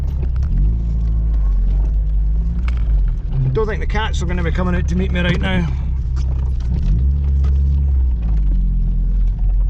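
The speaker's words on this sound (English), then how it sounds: "it is just a downpour today" A downpour hammers on a car from outside while the cabin fills with a steady low rumble; someone speaks briefly in the middle over the constant roar of the rain.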